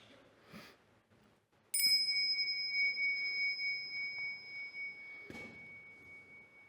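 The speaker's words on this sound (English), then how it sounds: "So I'll use the bells to bring you in and out of this meditation." A single bright bell strike opens a guided meditation, ringing out clear and close, then sustaining a pure tone that slowly fades over several seconds, with faint background rustle.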